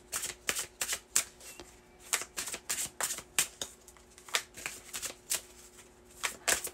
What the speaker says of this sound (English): I just saw this one, but I keep shuffling.